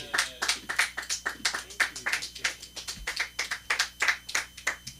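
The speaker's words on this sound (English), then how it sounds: "You don't have to keep clapping." A comedy-show audience claps steadily, many hands in a brisk, even rhythm of sharp bursts that carries on without a break for the whole stretch.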